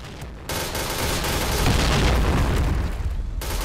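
Gunfire from the video game Point Blank: a dense, loud, continuous burst of rapid shots and booms lasting about three seconds, with no talk.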